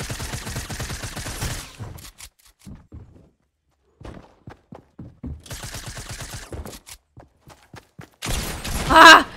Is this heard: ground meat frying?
no